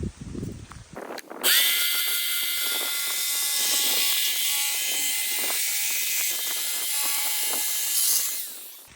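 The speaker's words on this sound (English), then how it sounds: "he'll get to cutting on the world's oldest jigsaw" An old jigsaw cuts through stacked tongue-and-groove wood pieces, buzzing loudly and steadily for about seven seconds after a brief start, with a faint rattling mechanical edge and no talking.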